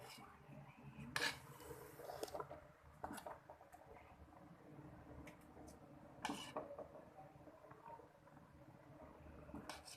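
Mutton biryani is served out of the pot after steaming, with quiet, irregular scrapes and metallic clinks of a spoon against the pot.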